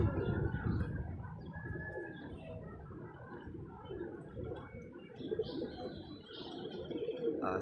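Soft, low pigeon coos repeat through steady outdoor background noise, with a few faint bird chirps higher up; no one speaks.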